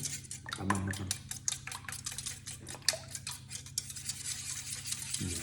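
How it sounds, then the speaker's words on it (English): Eggs being whisked in a bowl for a Japanese rolled omelette, a rapid run of light clicking strokes against the bowl, close and steady, with a brief low voice at the start. "So we're gonna whisk this."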